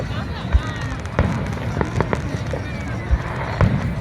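Fireworks at a 4th of July show on Brighton Beach: several muffled, distant booms and thuds scattered through a steady wash of crowd noise, with people talking nearby.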